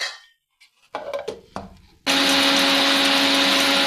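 Mixer grinder powdering roasted black pepper and cumin, a few sharp clatters of the jar being set and loaded before the motor bursts into a loud, steady high-pitched whir that runs on without pause.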